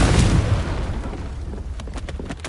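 A Confringo blasting spell explodes in Hogwarts Legacy, a loud booming burst that rolls off into rumbling debris with a few sharp crackling pops trailing behind.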